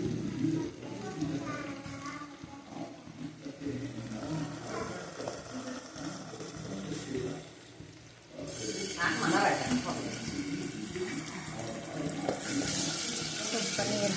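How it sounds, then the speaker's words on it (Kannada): Water runs from a tap into a cooking pot while a chicken curry is being made in a home kitchen. The pouring is steady and fairly close, with a louder splashing burst partway through, and a person talks over it. "ಸ್ವಲ್ಪ ನೀರು ಹಾಕೋಬೇಕು."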